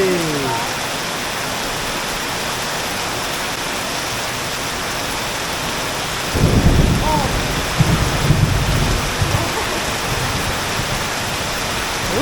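Heavy rain pours steadily during a thunderstorm in Sisaket, Thailand, a dense constant roar, with a louder burst of downpour and rumbling thunder swelling midway and voices faintly audible beneath.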